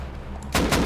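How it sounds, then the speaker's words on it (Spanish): Gunfire in the video game Rust, a sudden loud burst of rapid shots breaking in after a quiet moment, close and sharp. "Me disparan a mí."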